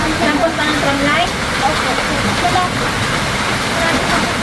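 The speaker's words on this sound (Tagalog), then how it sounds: "lakas na naman ang ulan" Heavy rain pours down steadily and loud in a rural Mindoro province setting, a dense continuous hiss filling the scene without break.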